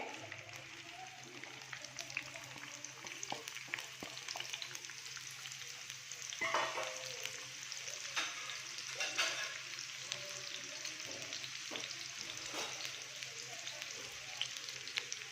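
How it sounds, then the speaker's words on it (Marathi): Four finely chopped onions frying in oil in a pan, a soft, continuous sizzle with a few faint scrapes and clinks, quiet and steady for the whole stretch. "कांदा आपल्याला थोडासा लालसर होईपर्यंत भाजून घ्यायचा आहे व्यवस्थित फ्राय करून घ्यायचा आहे"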